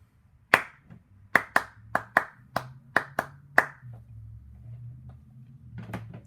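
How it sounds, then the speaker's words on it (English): Hands clap out a syncopated one-measure rhythm in a music lesson: eight sharp, close claps in an uneven pattern, then quiet room tone with a faint soft sound near the end. "Here's the first measure clapped"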